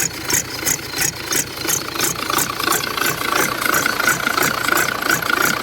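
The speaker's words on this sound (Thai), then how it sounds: "เร่งเบาๆก็ยังดังดีอยู่" A motorcycle fitted with a PSJ V.3 fourth-generation size-four exhaust pipe is revved lightly, giving a steady, fairly loud rumble with a slight rattle that pulses gently, with no talk over it.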